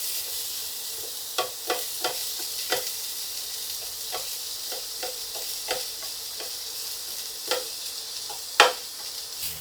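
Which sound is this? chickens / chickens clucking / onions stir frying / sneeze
onions stir frying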